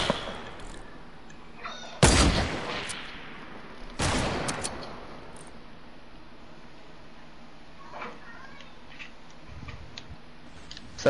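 Gunfire in a Spider-Man video game: two loud, abrupt bursts of shots a couple of seconds apart, each trailing off, followed by quieter ticking game sounds.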